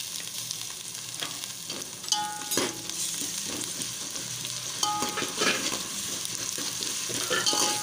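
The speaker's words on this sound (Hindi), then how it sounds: "अब हम डालेंगे इसमें लहसुन अदरक का पेस्ट।" Garlic ginger paste sizzles and crackles in a hot pan while a spoon scrapes and stirs, with steady frying hiss throughout and no talking.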